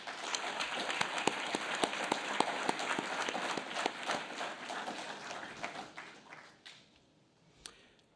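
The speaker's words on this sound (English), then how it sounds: "I'd like graduates to just put your hands together and applaud your family members and support" Graduates at a summer graduation ceremony applaud their families in a large hall, a thick, steady patter of many hands that thins out and fades to a few last claps near the end.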